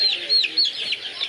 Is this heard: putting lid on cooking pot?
no